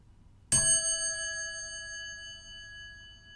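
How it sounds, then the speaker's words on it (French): A single meditation bell is struck once to close a guided meditation, giving a clear, bright ring that lingers and slowly fades with long, pure overtones in a quiet room. "j'ai invité la cloche à retentir pour clôturer cette méditation"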